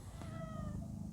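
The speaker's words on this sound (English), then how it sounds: "Hey kitty!" A cat meows softly, one brief faint call against steady low background noise outdoors.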